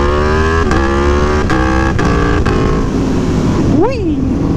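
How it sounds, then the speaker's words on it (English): An Aprilia Tuono V4 Factory motorcycle accelerates hard in first gear as the throttle is whacked open, a loud, close engine howl rising through the revs with a sharp pitch swing near the end, and a voice whooping over it. "I'm just going to whack the throttle."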